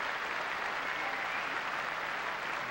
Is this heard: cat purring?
no